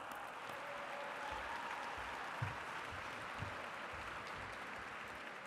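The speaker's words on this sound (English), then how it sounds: "About another round of applause?" A large audience applauds steadily at the 2024 Reaching For The Stars gala, a dense, even wash of clapping that holds for about five seconds, with a few heavier claps standing out.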